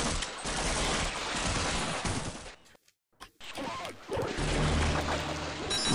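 Enemy gunfire in the game Half-Life, a dense, loud burst of rapid shots that cuts out briefly mid-clip before the firing resumes at full strength.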